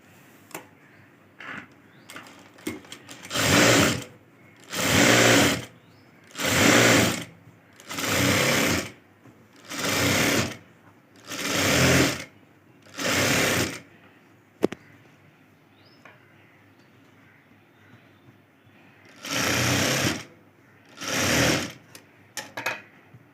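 A sewing machine stitches a blouse in about nine loud, steady whirring bursts, each a couple of seconds long and separated by short quiet pauses, with no talk.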